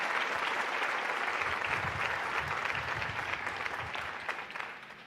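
A church congregation applauds together in a dense, sustained wash of clapping with a few louder claps standing out, easing off slightly toward the end.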